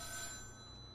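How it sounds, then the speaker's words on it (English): Faint telephone ringing, spatialized in a Google VR audio demo for Google Cardboard: a soft, steady trill lasting about a second that fades slightly toward the end. "The phone is ringing."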